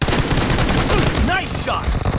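Rapid automatic gunfire in the PUBG Mobile video game, loud and close, a dense unbroken burst of shots with a couple of brief ricochet-like whines partway through.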